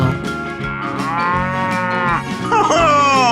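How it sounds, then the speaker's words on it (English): A cow in a 3D animal slide video game gives a loud, drawn-out moo with a rising, warbling call near the end, close and dominant with no talking. "Cow."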